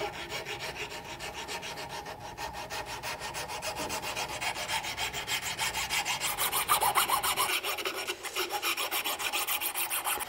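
A file rasps string grooves into the limbs of a fiberglass bow, making quick, rhythmic scraping strokes close up at a moderate level that keep going without a break, with no one speaking.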